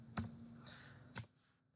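A few quiet, close key clicks from a computer keyboard as a web address is typed, sparse and brief with a soft rustle between taps.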